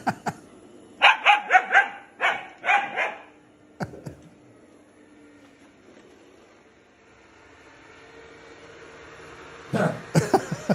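A dog barks in loud, close bursts, a quick series at the start, a single sharp bark near four seconds, then a quiet stretch before another rapid cluster of barks at the end.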